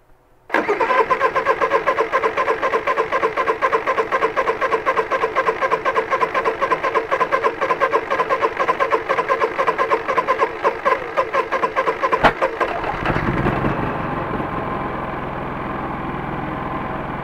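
A Honda 3000is inverter generator cranks and catches, then runs with a steady, fairly quiet mid-pitched engine hum that settles lower after about twelve seconds, heard close up.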